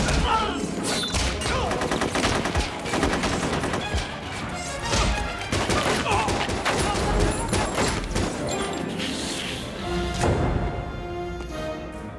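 Gunfire in a tense X-Men 2 facility scene, dense bursts of shots and crashes blended with a dramatic film score and shouted voices throughout.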